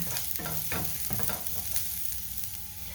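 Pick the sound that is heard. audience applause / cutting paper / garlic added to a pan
garlic added to a pan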